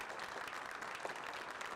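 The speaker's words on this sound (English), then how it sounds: "Ladies and gentlemen, please give our keynote speaker a round of applause." Faint, steady applause from an audience welcoming a keynote speaker at a conference session, a sustained patter of many hands heard from a distance with no voices over it.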